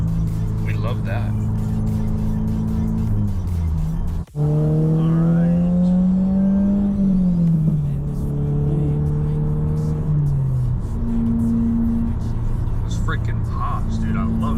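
A Subaru WRX engine revs and winds up close by, its rising and falling drone broken by a sharp pop from the exhaust partway through.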